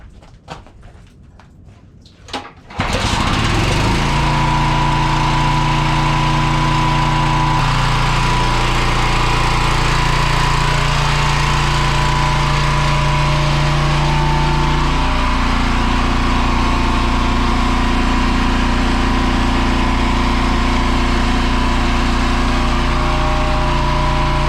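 A gas-powered engine at a maple sugaring setup starts with a few quick pulls, then catches and runs steadily and loudly for the rest of the stretch, settling into a continuous droning hum.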